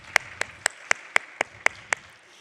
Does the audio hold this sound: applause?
yes